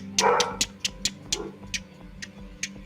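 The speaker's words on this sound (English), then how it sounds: "You can also hear a dog barking from somewhere in the town" A dog barks repeatedly in a series of short, sharp yips spaced about every quarter second, fairly close and clear, with no talking over it.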